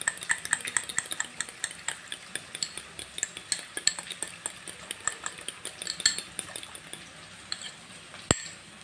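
Yogurt mixed with cumin and coriander powder is whisked in a bowl for chicken kosha, with steady, rhythmic utensil clinks and scrapes up close and no talking.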